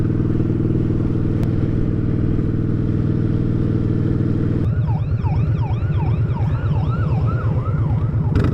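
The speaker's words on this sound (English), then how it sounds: "I hear sirens." A Newport News fire and bomb squad truck passes close by with a loud engine rumble, then its wailing siren starts partway through and sweeps up and down repeatedly.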